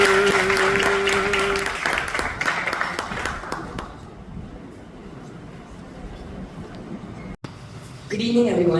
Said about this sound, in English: Let's welcome her with a great round of applause.